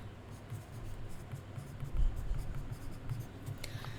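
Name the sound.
writing a note by hand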